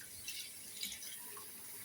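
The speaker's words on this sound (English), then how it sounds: "So I'm gonna rinse them off from the salt water" Running water pours from a tap over salt-soaked vegetables being rinsed, a faint, steady trickle and splash with no one speaking.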